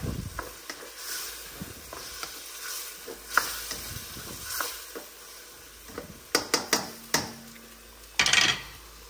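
Chili crab sauce with mirin, made for Singaporean chili crab with Alaskan king crab, stirred in a hot pan: soft steady sizzling under repeated scraping strokes, with a few sharp clinks of the utensil against the pan near the end.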